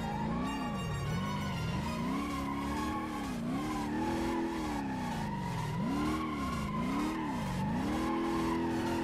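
A Nissan S13 engine in BeamNG.drive revs and winds up and down repeatedly, with a whooshing turbo blow-off and tire screech while drifting, loud and continuous.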